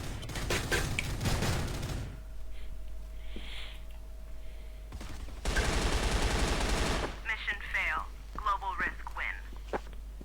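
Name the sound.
gunfire in a video game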